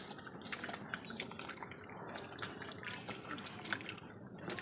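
Vegetables are rinsed under a running tap at home, a steady faint splash of water with small drips and handling noises throughout, no speech.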